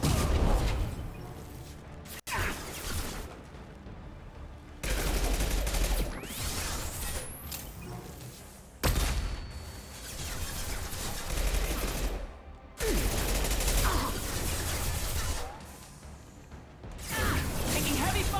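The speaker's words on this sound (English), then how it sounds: "Taking heavy fire." Heavy gunfire from the game Mass Effect 2, with bursts of rapid automatic shots and sharp cracks in repeated loud volleys separated by brief gaps, plus mechanical clatter and whooshes, with a voice speaking among them.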